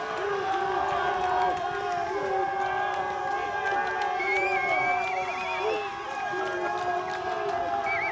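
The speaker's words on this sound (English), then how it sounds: "Deafening sounds here from the sideline." Loud, sustained crowd cheering and shouting from the sideline of an ultimate frisbee match between Germany and Great Britain, a dense roar with whoops and whistles rising through it.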